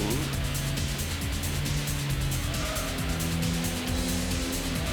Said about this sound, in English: Uh-oh, I'm hearing their engines closer.